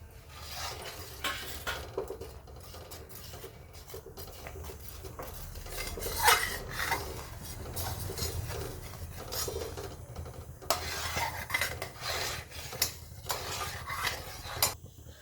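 Milk mixture for matka kulfi is stirred in a pot, a quiet, steady run of soft scraping and clinking of a utensil against metal that continues without pause, with no voices.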